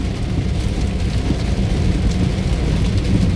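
Heavy rain pours down along a road between Comilla and Dhaka as a dense, steady, loud roar with no letup.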